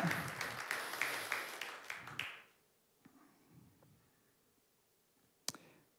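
A church congregation gives loud, dense applause and clapping in praise of Jesus for about two seconds. The clapping then cuts off abruptly into near silence, broken only by faint clicks and one sharp tap.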